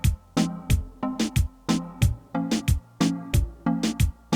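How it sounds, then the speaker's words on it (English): A reggaeton kick and snare pattern thumps in a steady syncopated groove, with deep kicks and crisp snare cracks over a sparse plucked synth line, close and punchy with no voices. "And I had initially a kick and a snare"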